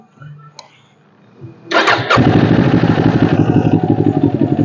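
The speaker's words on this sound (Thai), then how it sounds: "เราไปฟังเสียงท่อกัน" A 2019 Kawasaki Ninja 400 motorcycle with about 5,000 km on it cranks briefly, catches and settles into a steady, smooth exhaust idle, close and loud, after a few faint sounds before the start.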